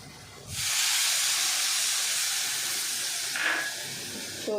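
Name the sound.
masala sizzling as water is added and fried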